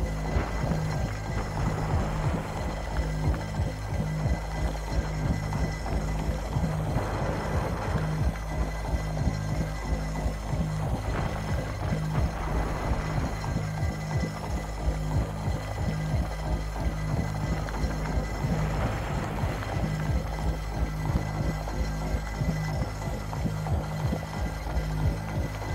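Mining drill cutting into an asteroid in the space game Elite: Dangerous: a steady, loud mechanical hum and throb with layered tonal drone and recurring swells, continuous with no talking.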